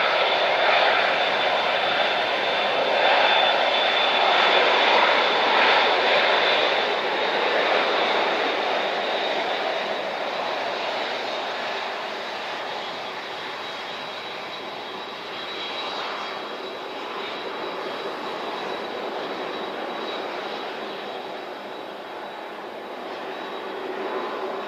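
An aircraft landing at Christchurch airport in strong wind, its jet engine roar loud and sustained, holding a broad rushing drone that slowly eases over the whole stretch.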